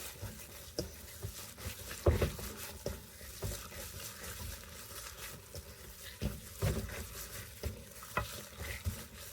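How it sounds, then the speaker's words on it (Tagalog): Hot mashed potato being stirred and mixed with seasoning for chicken potato croquettes, a soft, steady run of scraping and squishing strokes with faint sizzle-like texture, close and fairly quiet, no talking. "mix it while the potato is hot"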